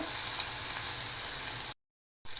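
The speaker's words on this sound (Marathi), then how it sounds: "आता या फोडणीमध्ये फ्राय करून घेणार आहोत" Spices sizzle and crackle in hot oil for a tempering for moong dal and sponge gourd curry, a steady close frying hiss that cuts out for a moment before resuming.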